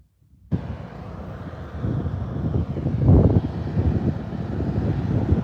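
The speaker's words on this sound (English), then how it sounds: "we're getting quite a bit of wind right now" Wind buffets an outdoor microphone at the SpaceX Starbase launch site gate in Boca Chica, Texas, a loud continuous rumbling roar that starts abruptly and swells midway.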